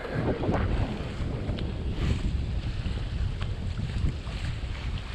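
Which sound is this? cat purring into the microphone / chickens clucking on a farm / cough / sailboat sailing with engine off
sailboat sailing with engine off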